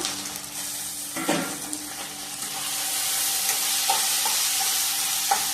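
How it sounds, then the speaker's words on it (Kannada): Onions fry in a pan after ginger-garlic paste, a steady close sizzle that grows fuller over several seconds, with occasional light stirring taps. "ಈರುಳ್ಳಿ ಸ್ವಲ್ಪ ಫ್ರೈ ಆದಮೇಲೆ ಟೊಮೆಟೊ"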